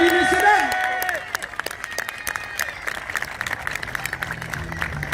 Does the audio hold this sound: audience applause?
yes